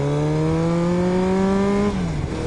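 A loud Kawasaki motorcycle engine revs steadily close up while riding, its pitch climbing slowly and then dropping away near the end; no one speaks.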